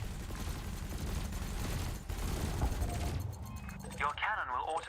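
Ship cannon and laser fire from the Elite Dangerous space game come as dense, rapid bursts of blasts and crackles. A narrating voice speaks over them, and the firing eases into electronic warbling near the end.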